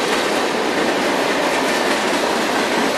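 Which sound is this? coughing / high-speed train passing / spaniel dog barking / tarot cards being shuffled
high-speed train passing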